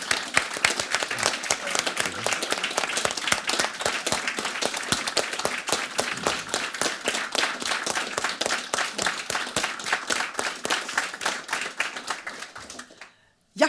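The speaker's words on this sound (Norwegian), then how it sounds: "Applaus!" A packed debate hall in Stavanger applauds, with loud, sustained clapping from a full house and crisp individual hand claps that continue at length before stopping abruptly.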